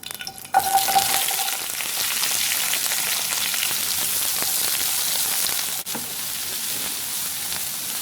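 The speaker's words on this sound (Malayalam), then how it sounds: "ഒരു കടായിൽ വെച്ചിട്ടുണ്ട് അതിൽ ഒരു ടീസ്പൂൺ എണ്ണ ഒഴിച്ചിട്ടുണ്ട് എണ്ണ ചൂടായി വരുമ്പോൾ സവാള അരിഞ്ഞ് വെച്ചതിട്ട്" Chopped onion fries in a teaspoon of oil in a kadai for onion-tomato chutney, a dense, even, rain-like sizzle after a brief clatter as it goes in, steady and close with no talking.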